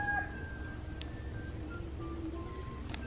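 A native rooster crows at a steady level against a rural backdrop with a constant insect-like drone, with no speech.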